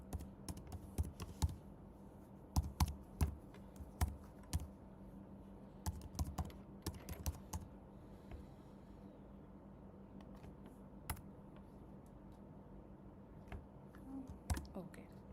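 Keys clatter on a computer keyboard as a name and email address are typed into an online registration form, steady irregular tapping with scattered sharper strokes over a faint background hum.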